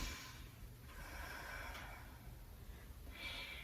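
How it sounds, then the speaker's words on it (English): Ujjayi breathing through the nose during a yoga session: slow, faint breaths in and out with an airy, ocean-like hiss, quiet and close, with no talking. "breathing through your nose and out through, in and out, it's called Ujjayi breath"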